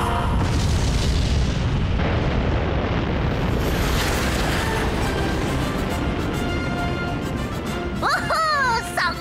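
A Pororo cartoon rocket blasts off with a loud, sustained roaring boom that fills the whole stretch, ending with a brief high whistling sound.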